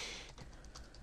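Quick keystrokes on a computer keyboard while typing slashes in a code editor, a few light taps over steady background hiss, faint and without talk.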